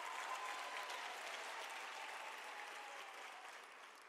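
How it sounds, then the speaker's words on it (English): A crowd at a university autumn graduation ceremony in South Africa applauds graduating students, a continuous, even roar of many hands heard at some distance, gradually softening toward the end. "Can we give them a round of applause?"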